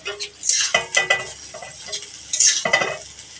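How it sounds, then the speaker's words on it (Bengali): Cashews and green chilies fry in a pan for vegetable fried rice, with a soft sizzle under repeated clinks and scrapes of a spatula against the metal, close and moderately loud. "দিয়ে আমি হালকা সবকটা ভেজে নেব আর দুটো কাঁচা লঙ্কা দিয়ে দিলাম"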